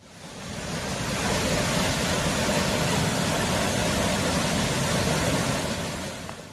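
A river rushes over rocks in a steady, dense roar of flowing water that swells in and holds unbroken, close and fairly loud, with no voices.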